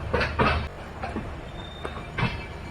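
The Capital Express train (13246) pulls out of Rajendra Nagar yard with steady clickety-clack from the wheels and a thin wheel squeal, heard from aboard at moderate loudness.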